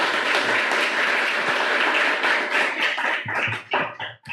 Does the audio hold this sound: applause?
yes